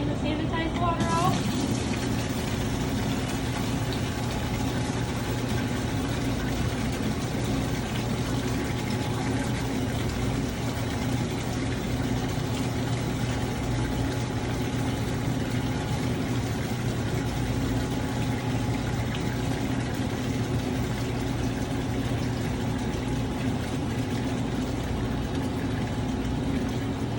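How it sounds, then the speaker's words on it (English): Sanitized water pours steadily out of a soft-serve ice cream machine after its clean cycle, making a loud, continuous rushing flow into a container close by with no pauses. "We're just going to drain the sanitized water out."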